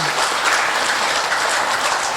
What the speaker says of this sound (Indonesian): tepuk tangan dong untuk PPBRI